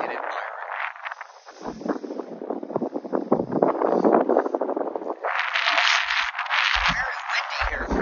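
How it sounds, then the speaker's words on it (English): Steady wind buffeting a microphone on the open Maspalomas sand dunes, a continuous broad roar that swells and eases in gusts throughout, with no voices. "Probably sounds pretty windy."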